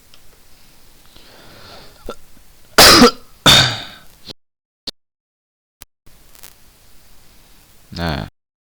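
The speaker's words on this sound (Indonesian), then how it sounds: "Mungkin kedepannya akan sering batuk gitu, kan ada gangguan batuk." A person who is feeling unwell coughs and clears their throat, with a few loud, close, harsh bursts separated by quieter gaps and faint breathing, and a final cough near the end.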